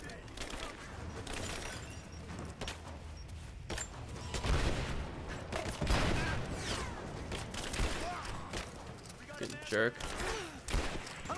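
Gunfire from the video game Rise of the Tomb Raider, with dense overlapping shots and bursts running throughout under steady game noise while a player talks over it.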